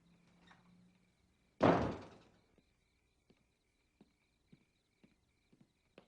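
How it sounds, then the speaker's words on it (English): A door slams shut once, loud and close with a short boom, followed by a series of faint, evenly spaced footsteps fading away in a quiet room. "You didn't close the door on your way in, Robert. Don't make the same mistake on your way out."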